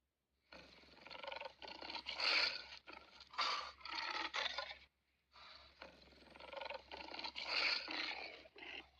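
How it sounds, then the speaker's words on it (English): A lion roars in two long, rough bursts separated by a brief pause, each swelling and rasping with a steady low hum beneath. "Lion."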